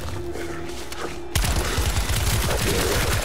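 Rapid bursts of gunfire from the Daymare 1994 demo video game erupt suddenly after a quieter stretch, dense overlapping shots and thuds continuing loudly to the end.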